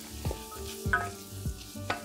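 Quiet scraping strokes of stirring melted butter and flour in a pan, repeated about four times in a steady rhythm over a faint sizzle.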